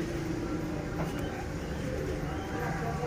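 A pair of Sialkoti chuha pigeons with green-pearl markings coo faintly over a steady background hum, soft and somewhat distant.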